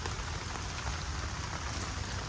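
Steady rain falls on okra plants growing in a home garden, a dense, even hiss of drops with no pauses, close and fairly loud, with no talking.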